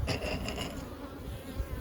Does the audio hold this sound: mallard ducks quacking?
no